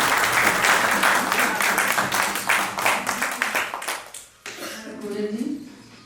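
Audience applause at a poetry festival opening session fills most of the stretch, dense and lively, then fades as a voice begins speaking over the tail.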